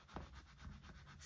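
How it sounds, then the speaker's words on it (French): A coin or fingernail rubbing across the silver coating of a scratch card, a few quiet close scraping strokes with soft friction noise, no voices. "On va gratter."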